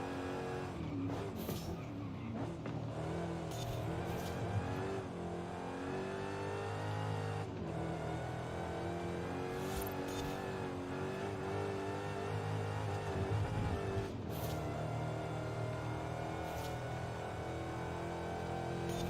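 An 840-horsepower muscle car in Forza Horizon runs steadily with its engine droning and revving through gear changes, loud and close, with brief shifts and surges over a continuous mechanical roar.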